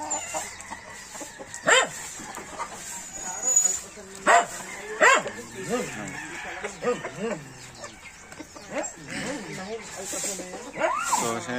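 Paraoakan chickens on a farm, with scattered clucks and fowl calls mixed with dog barks and a rooster, under ongoing talk.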